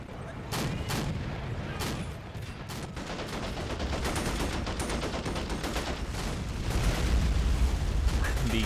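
Rapid machine gun bursts and heavy gunfire crack steadily across a battlefield in the Kosovo War battle of Men of War: Assault Squad 2, dense and continuous, with a voice talking faintly underneath.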